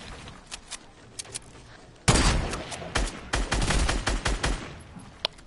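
Bursts of video game gunfire, sparse single shots at first, then a loud close volley and a run of rapid irregular shots that trail off into scattered cracks, with building and rocket play going on around it.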